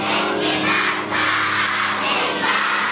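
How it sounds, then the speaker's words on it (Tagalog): Fans scream and cheer at a mall show in Alaminos City, Pangasinan, for a TV action-drama star: a dense, continuous wall of excited shrieking crowd voices, loud and close throughout. "Hiyawan ang fans nang makita si Kapuso action drama prince Ruru Madrid."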